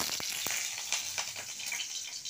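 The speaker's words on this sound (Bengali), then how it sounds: "কড়াইটা গরম করতে দিয়েছিলাম, সরষের তেল দিয়ে দিলাম।" Mustard oil sizzling in a hot wok, a steady bright hiss with a few soft crackles and pops, close and fairly quiet, with no voices.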